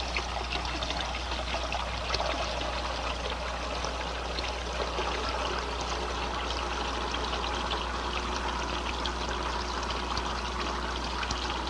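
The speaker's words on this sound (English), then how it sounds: "I'll reduce the volume flow at successive sections by bleeding water from the manifold." Water bled from a manifold in a laboratory flow apparatus, a continuous close splashing trickle and pour with a steady low hum underneath, no voices.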